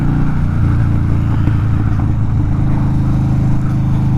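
A 2014 Harley-Davidson FXDL Dyna Low Rider motorcycle engine gives a loud, close, steady low rumble throughout, with no talk.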